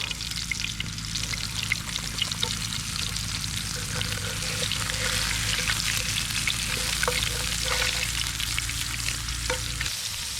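Bass fillets fry in hot olive oil in a pan over an open fire, giving a steady, dense sizzle and crackle throughout, close and even, with occasional soft pops and no speech.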